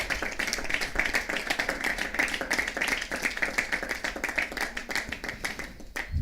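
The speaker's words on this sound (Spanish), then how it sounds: "¿Puedes alabar al Señor con un aplauso?" Church congregation clapping in praise to God, a lively dense round of hand claps with a quick rhythmic pulse, close and loud, fading out at the very end.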